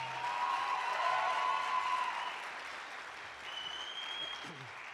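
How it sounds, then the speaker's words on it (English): A church congregation gives a warm round of applause, steady and fairly loud at first, then dipping a little and carrying on, with a few stray sounds in the room. "can we give them such a lovely round of applause?"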